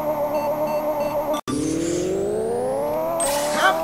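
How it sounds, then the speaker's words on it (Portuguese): An engine in Pixel Car Racer, a Civic or Eclipse street car, revs steadily, drops out for an instant at the shift, then climbs in a long, rising whine as the car launches hard from a standing start. "esse carro tá com uma arrancada muito absurda"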